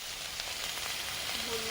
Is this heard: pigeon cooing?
no